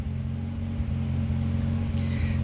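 A neighbor's lawn mower drones steadily in the background of a yard, a continuous low motor rumble with no gaps, holding an even level throughout.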